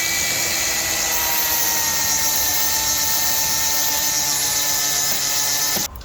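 An angle grinder cuts steadily into the bottom corner of a Land Cruiser's body metal, giving a loud, continuous high-pitched whine for several seconds before the tool cuts off abruptly at the end.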